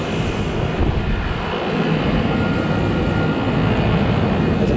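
A Trane XB Series air conditioner runs in cool mode outdoors at night, its compressor and condenser fan making a loud, unbroken whooshing hum at close range with no voices.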